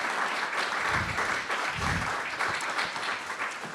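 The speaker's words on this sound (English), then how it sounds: "let's give a round of applause to our speakers" Audience applause for the speakers at a clean water community forum, a steady, fairly loud wash of clapping from a room of people lasting throughout, with no voices over it.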